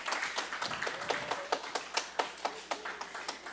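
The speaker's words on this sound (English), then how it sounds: "let's welcome Krishna by giving a big round of applause" A small audience at a Sunday feast lecture gives a round of applause to welcome a guest, with a steady run of distinct hand claps at a moderate, close level and no talking.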